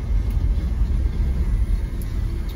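A 1999 Toyota Land Cruiser 100 Series on the move, heard from inside the cabin as a steady low road and engine rumble with constant drone and no voices.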